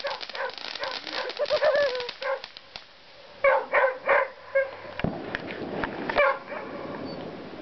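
Puppy yelps in short bursts of high barks and whimpering cries, close and fairly loud, with a few chirpy bird-like squeals and scuffling in between; no one talks.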